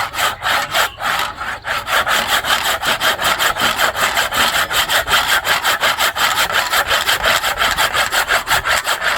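Hand sawing through wood: a steady, loud rhythm of rasping back-and-forth strokes, close up and continuous throughout, with no talk over it.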